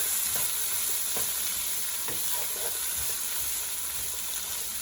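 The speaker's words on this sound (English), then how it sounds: "So another couple minutes just sauteing them with the sauce." Potatoes fry in red chili sauce in a pan as an enchilada topping, giving a loud, continuous sizzle with occasional scraping stir strokes and no talking.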